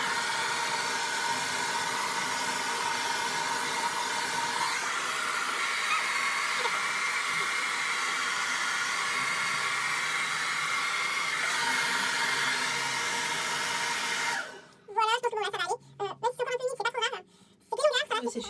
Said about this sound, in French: j'ai monté un peu la puissance de chaleur de mon sèche-cheveux